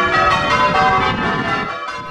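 Church bells of St John's Church in Bollington pealing in a loud, close ringing sequence, overlapping strikes with long ringing harmonics, and no voices.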